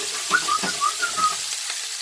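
Mozzarella-stuffed Italian meatballs browning in a hot pan, a steady close sizzle with a few faint squeaky scrapes and shuffles as the meatballs are turned.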